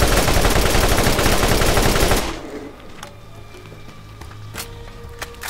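Modded guns in the video game Borderlands firing in a loud, dense automatic burst for about two seconds, then a few scattered, quieter single shots.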